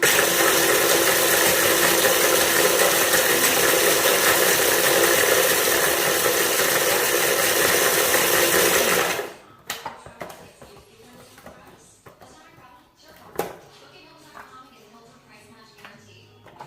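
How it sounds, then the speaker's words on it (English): A grinder loudly churns homemade fertilizer ingredients for about nine seconds as a dense, steady roar, then cuts off. After it stops there are faint rattles, handling noises and quiet voices. "so I'm going to grind it up"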